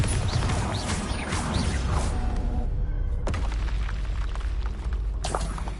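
Bombarda spell explosions in Hogwarts Legacy: a series of booming blasts with whooshing impacts, one sharp crash near the middle and another near the end, loud and close over dense game sound.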